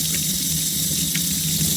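A piece of ginger, cut in two, is rinsed under a running kitchen tap, the water pouring in a loud, steady, continuous rush with no pauses and no talking.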